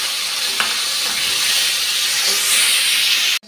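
Chopped onion and green chilli hiss and sizzle in hot oil in a pan, a steady close-up frying crackle with a couple of brief stirring clicks, no talking.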